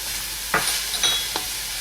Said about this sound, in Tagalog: Then, continue lang natin yung paggisa.